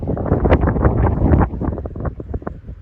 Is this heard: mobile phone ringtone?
no